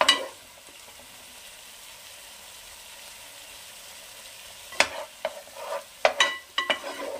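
Parboiled cauliflower is stirred through spice masala in a pan: a soft, steady sizzle fills the first few seconds, then scraping spatula strokes and clatters come in quick bursts near the end.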